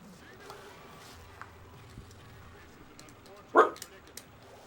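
A single short, loud dog bark rings out near the end, standing above a faint bed of video game sound and quiet background noise.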